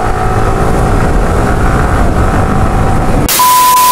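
A Yamaha R15 V3 motorcycle ridden on the road with the rider standing, steady loud engine drone and wind rush, ending with a brief tonal beep.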